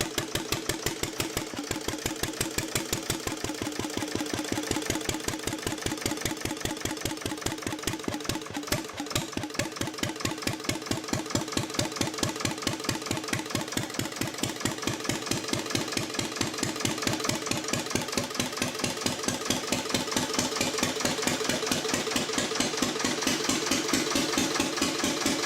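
An early British AS1 diesel engine from the interwar period runs steadily, with a fast, regular chugging firing beat that holds constant and close for the whole stretch, with no talk.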